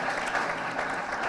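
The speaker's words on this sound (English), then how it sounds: "Can I get a round of applause for that" A crowd applauds with dense, continuous clapping that holds steady for a short moment, moderately loud and without talk.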